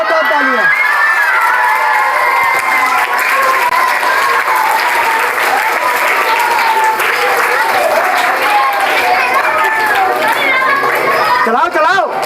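Schoolchildren at a magic show clap loudly and continuously in a crowded room, with excited chatter, shouts and children's voices mixed into the applause throughout.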